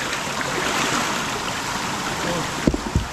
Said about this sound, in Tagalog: Yan, ang lakas ng tubig. Yan po, pressure ng tubig oh.